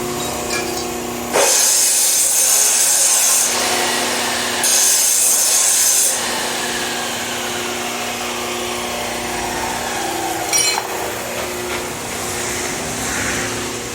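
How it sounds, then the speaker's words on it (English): A power tool tapers the end of an exhaust pipe on a 2020 Camaro SS 1LE during a secondary cat and resonator delete, with two loud harsh grinding bursts over a steady background hum and a brief third hit, close and without talking. "He's tapering out the pipe so that it fits into the"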